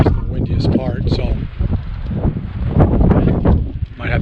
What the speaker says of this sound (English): might have to do this a couple times because of the wind gusts